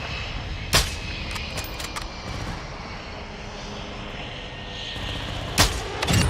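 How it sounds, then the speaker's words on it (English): Cruise missile strike in Call of Duty Warzone 2 brings two sharp, loud explosive blasts, one early and one near the end, over a steady rumbling backdrop of distant aircraft and battle noise. "Friendly cruise missile inbound."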